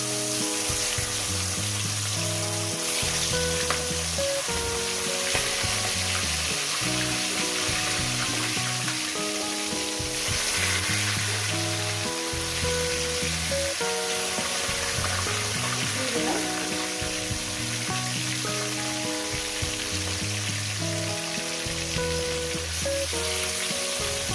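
Salted bhola fish pieces fry in a pan, a loud continuous sizzle and crackle holding steady throughout, with faint stirring and no speech.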